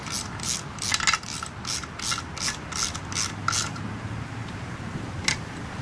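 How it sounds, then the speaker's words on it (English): Hand tool ratcheting as four bolts are tightened on a Yamaha outboard water pump, a run of quick regular clicking strokes followed by a lone click near the end, close and moderately loud over a low background rumble. "So right now, I tighten up the 4 bolts"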